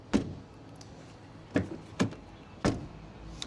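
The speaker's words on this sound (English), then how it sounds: "Now to the interior, here door closing sound." Someone shuts the frameless doors of an electric Mercedes CLA a few times. Four separate thuds come at uneven intervals, each a close, solid clunk with a short ring-out, and the cabin is quiet between them.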